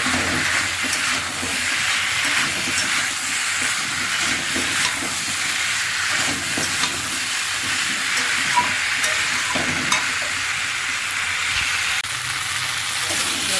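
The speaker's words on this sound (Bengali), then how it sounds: "কপিটা দিয়ে আরেকটু কষিয়ে দিয়ে দেবো।" Cauliflower being stir-fried in a pan at home, giving a steady broadband sizzle and hiss that holds for the whole stretch with small crackles and no voice on top.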